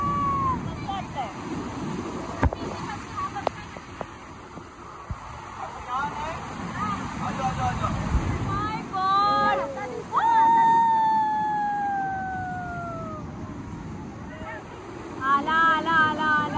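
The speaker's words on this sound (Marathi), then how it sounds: "आणि हा आहे तो धबधबा" Nanemachi waterfall in Raigad roars with a steady, dense rush of water through the whole stretch, while voices talk and shout excitedly over it.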